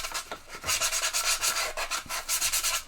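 Japanese foil ball being sanded by hand with sandpaper: steady rhythmic rasping strokes, close and fairly loud, repeating about every quarter second with no talking.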